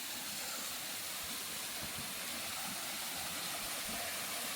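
Continuous broadband rushing of a waterfall at low flow in Ban Na, Nakhon Nayok, Thailand, a steady even roar heard at moderate level with no other sounds standing out.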